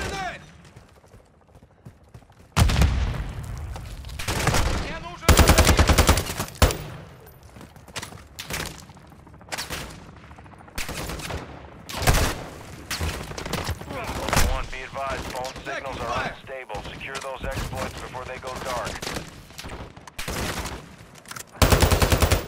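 Gunfire in Call of Duty DMZ, with bursts of automatic weapon fire and single loud shots scattered through the stretch, dense fusillades in places, and in-game voices and mechanical noises between them.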